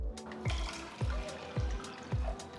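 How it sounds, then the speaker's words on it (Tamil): Water poured into a saucepan for making sugar syrup for a summer sherbet, heard as steady splashing liquid with rhythmic gulping surges roughly every half second, fairly close and with no talk. "சாஸ்பேனில் 2 கப் தண்ணி ஊற்றுங்க."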